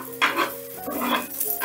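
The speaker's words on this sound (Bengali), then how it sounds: "এবারে দিয়ে দিচ্ছি তেল" A paratha stuffed with carrot and paneer fries in a pan as oil goes in. There is a short burst of sizzling with a few spatula scrapes, close and fairly loud.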